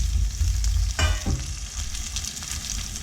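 Shallots and garlic hit a hot pan and sauté with a loud, steady sizzle, marked by a sharp burst of crackle about a second in as they land.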